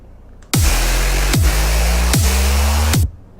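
Loud, sustained dubstep bass from the Serum synth, a growling wobble with three sharp downward pitch dives at regular intervals, like a car held on the brake while revving, heard alone and stopping abruptly.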